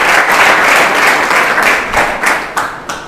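An audience bursts into hearty applause for a student's correct answer at a career academy quiz session. The clapping is loud and close, then thins into a few scattered claps near the end.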